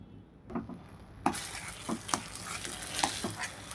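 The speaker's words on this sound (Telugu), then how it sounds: "బాండీలో అలా కలుపుకుంటూ మయంగా తగినంత కొంచెం నెయ్యి వేసుకొని చేసుకుందాం" Ghee-laced mixture stirred and frying in a kadai, with steady sizzling broken by repeated scraping strokes of a spoon against the pan, close and moderately loud, with no talking.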